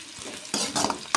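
Ivy gourd (dondakaya) pieces and peanuts roasting in a pan, with a soft steady sizzle broken by a few louder scraping stirs near the end.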